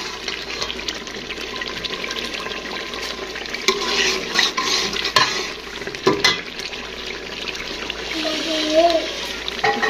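Spices are stirred in a cooking pan, giving a continuous scraping, sizzling texture with a few louder spoon knocks, and a voice talks briefly near the end.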